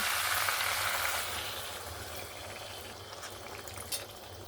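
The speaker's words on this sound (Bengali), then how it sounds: "এবারে আমি পরিমাণ মতন একটু জল দিয়ে দেবো।" Water being added to potato and cauliflower frying in a pan, a broad hissing sizzle that is loudest at the start and then settles to a steady bubbling, with a small clink near the end. No one speaks.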